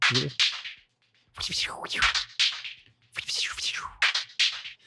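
Bright synth notes from Spitfire Audio Hammers with sweeping, bubbly resonant filter movements, loud bursts separated by brief silences, giving a liquid, wobbling tone.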